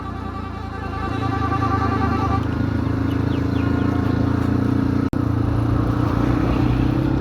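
A motorbike on a road lined with sugarcane fields on a long ride through rural Punjab, its engine a steady, continuous drone with wind rush, running alone without talk.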